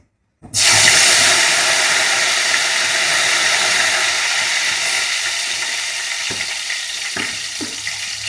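Freshly washed curry leaves hit hot oil for tempering, erupting in a loud spattering sizzle that settles into steady frying crackle, with a few sharp pops later on.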